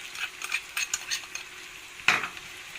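Potatoes and peppers frying in a pan are stirred with a utensil, giving a quick run of light scraping clicks over a soft sizzle, then one sharper clatter near the end, with no voices.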